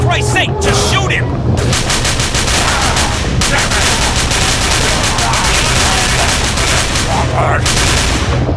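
Sustained rapid gunfire in a video game, with dense automatic bursts rattling almost nonstop at close range and loud, broken by a few brief gaps.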